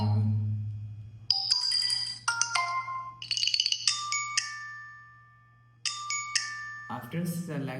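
Notification tones from a Samsung Galaxy S26 Ultra play one after another as previews, bright chiming and ringing melodies with short gaps between them, clear and close over a faint low hum.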